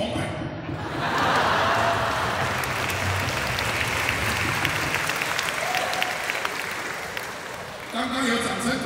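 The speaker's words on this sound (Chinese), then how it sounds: "刚刚有掌声鼓励的" Audience applause during a comedy impression show at an anniversary concert, a dense burst of clapping that swells after the first second and stays steady, then trails off as a voice returns at the end.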